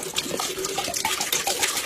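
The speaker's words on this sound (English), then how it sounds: "Next, you're going to add the cooking oil." Cooking oil poured into a pan of flour-coated chicken being prepared for frying, a steady close liquid trickle and splash lasting under two seconds, with no talking.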